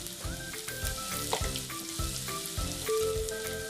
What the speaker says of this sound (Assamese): অলপ সময়ৰ কাৰণে এই মছলাখিনি কম জুইতে ভাজি থাকিম, যাতে ভালকৈ ভজা গৈ তেলত মিলি যায়।